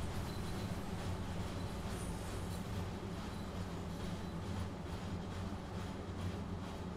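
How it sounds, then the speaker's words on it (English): Simulated tram train rolling along the Chur–Arosa line in Train Sim World 2, a steady low rumble of wheels and motor with faint rail clatter, continuous and fairly loud throughout. "Here's a tram train."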